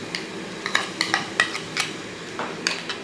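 Ginger garlic paste stirred into onions in a pan for chicken curry, a spoon scraping and clinking against the pan in quick irregular strokes over a faint sizzle, close and fairly quiet.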